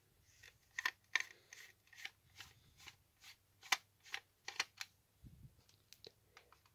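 A screwdriver unscrews the plastic cover of an ESSER Series 8000 addressable manual call point, a quiet series of ratcheting clicks and short scrapes in an uneven rhythm, close by with no talk.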